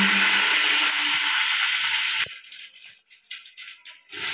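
Bay leaves and cinnamon dropped into hot oil for a vegetable and lentil dish, sizzling loudly for about two seconds, then settling into quieter crackling and spitting.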